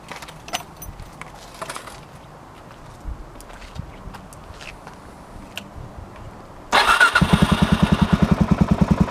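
A 2007 Suzuki DR-Z400S motorcycle fitted with aftermarket modifications sits quietly with a few light clicks and handling noises, then its engine turns over and catches into a loud, close, rapidly pulsing idle.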